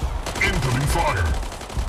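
Bursts of incoming gunfire in a mech combat video game, rapid shots heard under a synthetic announcer voice over a short stretch.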